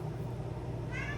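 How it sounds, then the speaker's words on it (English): House cat meowing indoors, a brief rising meow at the end under someone talking. "whenever I talk to the camera, she has to meow"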